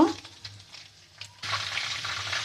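Dried red chillies, cardamom and cloves hit hot oil left from frying chicken, a quiet crackle swelling into a louder steady sizzle midway, close, with faint stirring.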